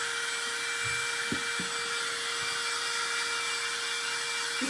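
A hair dryer blows steadily to dry Mod Podge during a craft upcycling project, a continuous loud whooshing hum with a few faint knocks and bumps underneath.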